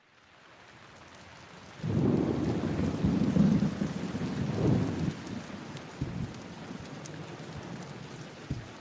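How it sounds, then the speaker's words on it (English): Rain pours down in a cartoon, a steady hiss that starts suddenly and holds, with a low rumbling undertone and a few heavier drops near the end. No one speaks. "I wish it would stop raining so I could go outside."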